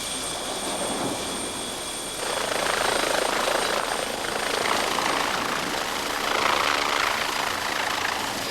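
A helicopter serving an isolated offshore lighthouse thrums nearby, its rotor and turbine drone steady and loud, swelling slightly after a couple of seconds and continuing without speech.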